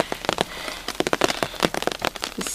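Rain patters onto a beeswax-waterproofed cotton tarp outdoors, dense close taps and crackly drops building to a busy, uneven drumming.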